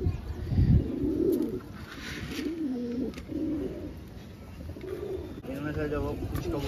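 Several pigeons coo in low, throaty, repeated phrases, close by and continuous, with a faint rustle in the background.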